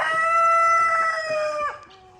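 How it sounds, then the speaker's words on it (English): A single rooster crows loudly and close by, one drawn-out call that breaks off sharply at the end. "these roosters right here"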